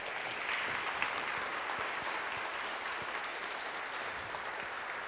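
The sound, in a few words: audience applauding for veterans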